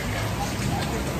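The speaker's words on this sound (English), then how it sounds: "They're forcing us to go through the rain." Rain pours steadily on a Kuala Lumpur street on a wet afternoon, a dense, even hiss that fills the short stretch with no break.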